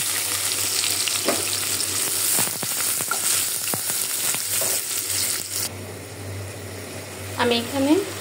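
Onions hit hot oil with whole garam masala and cumin seeds for a beef and mung dal curry, a loud continuous sizzle with stirring clatter; a voice speaks briefly near the end.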